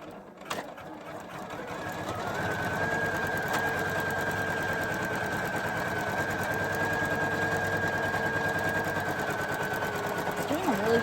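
A Poolin EOC06 embroidery machine stitches in fast, even repeated strokes with a steady whine, close and loud after a brief rattle at the start, carrying on without pause.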